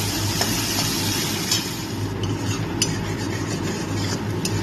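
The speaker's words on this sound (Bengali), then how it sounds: "পেঁয়াজটাকে একটু হালকা লাল করে আমি ভেজে নেব" Chopped onions frying in a pan for a spicy fish curry, a steady close sizzle with occasional stirring scrapes, no voices.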